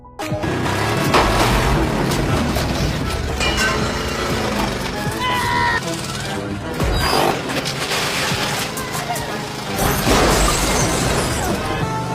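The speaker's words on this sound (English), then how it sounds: "He floored the gas pedal and crashed through the fence." A beat-up car smashes through a fence at speed with a loud shattering crash and booming impacts, set among dense music and effects under a narrating voice.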